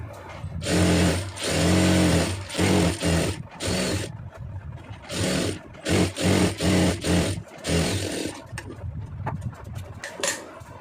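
A sewing machine stitches a lined blouse in several close, loud bursts of rapid whirring that stop and start in short pauses, with no talking.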